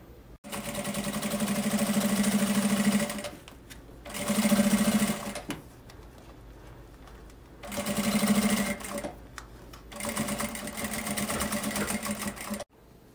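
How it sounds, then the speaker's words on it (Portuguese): A sewing machine runs in four steady, close bursts with brief pauses between them as it stitches a safety seam along a fabric carry case. "E a gente vai passar uma costurinha de segurança."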